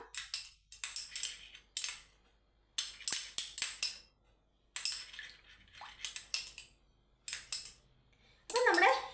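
A spoon clinks and scrapes in a bowl while stirring a runny honey face pack, in repeated bursts of metallic tapping separated by short pauses.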